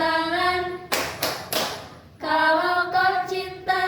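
A classroom claps together to a children's song about loving Indonesia, two or three sharp claps in time between stretches of group singing, close and fairly loud.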